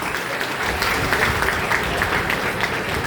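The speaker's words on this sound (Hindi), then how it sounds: "उसके लिए जोरदार ताली" An audience at a school event applauds after a poem recitation, loud sustained crowd clapping filling the whole stretch.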